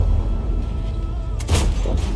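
A tank cannon firing in World of Tanks, a single deep boom with a sharp broadband crack in the middle of the clip, over a steady low engine rumble.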